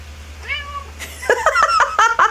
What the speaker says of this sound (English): now she's meowing